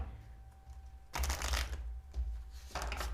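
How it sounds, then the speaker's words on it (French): Archangel Michael oracle cards are shuffled close by in a quiet room. Three bursts of crisp riffling and flicking are separated by short pauses, with no speech. "je vais vous tirer une carte de l'archange Michael"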